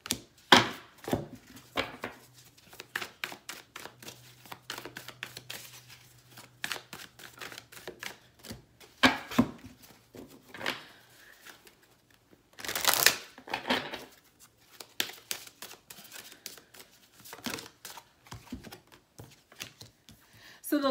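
Tarot cards shuffled and drawn by hand, a run of crisp riffling snaps and soft slides in irregular bursts, close up and quiet, with a denser flurry of shuffling midway and no talk.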